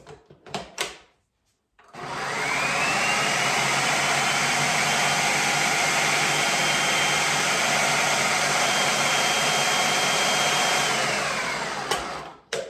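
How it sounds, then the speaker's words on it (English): A food processor mixing quiche dough at its dough speed starts abruptly after a few knocks and whirs loudly and steadily for about ten seconds, close by, then spins down. "the food processor does have a dough speed"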